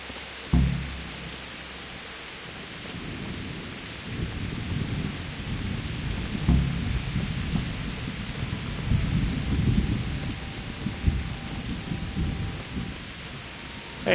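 Thunder rumbles through a steady wash of heavy rain during a nighttime rainstorm in the medieval game Kingdom Come: Deliverance, with deep booming rolls at intervals over constant downpour.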